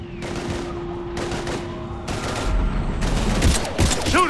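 Heavy automatic gunfire in the Mass Effect 3 sci-fi shooter, loud sustained bursts of rapid shots with short gaps between them.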